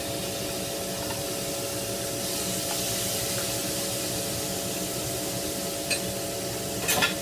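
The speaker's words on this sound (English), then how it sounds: "You can hear it sizzling." Steady, dense sizzling of chicken frying in hot oil, close and continuous, with a couple of light clinks near the end.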